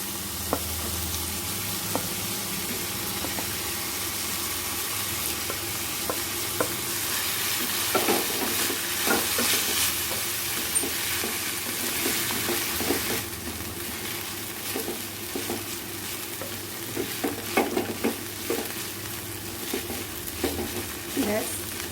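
Maggi noodles stir-fried in a pan for a street-style Chinese masala Maggi, with a steady sizzle and frequent scraping and clattering of a spatula against the pan throughout, close and fairly loud.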